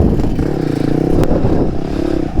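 A dirt bike engine labors up a steep clay hill with a throaty, uneven drone and some clattering, loud and close.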